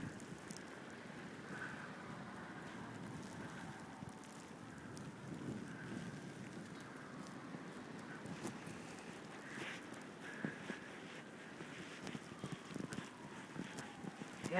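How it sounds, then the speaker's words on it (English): Blustery wind from a 2011 blizzard with mixed snow, rain and ice, roaring steadily outdoors on an empty street, with gusty buffeting against the microphone and faint scattered clicks and patters throughout. "The snow is like rain and ice mixed all together."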